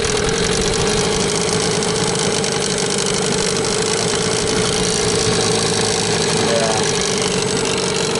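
Mikatsu 9.8 outboard motor running on its first break-in day, a steady, close, continuous engine hum with a mechanical rattle and no pauses, with no voices over it.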